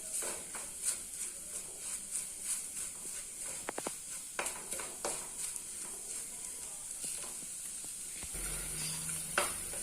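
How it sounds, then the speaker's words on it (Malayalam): Chili and coriander frying in a pan for a Kerala fish curry, a soft continuous sizzle with occasional stirring scrapes and taps, fairly quiet and close, without talk. "മുളകും മല്ലിയും നന്നായിട്ട് മൂക്കണം. നല്ല ബ്രൗൺ കളറാകണം."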